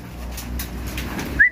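Pigeons coo softly in a brief, low murmur close by, with a short whistle-like note at the end.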